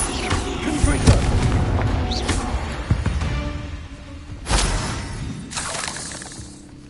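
Explosive Confringo fire-spell blasts in Hogwarts Legacy, with sharp shattering bursts and booming impacts repeating across the scene, loud and close amid game ambience, with a voice briefly heard.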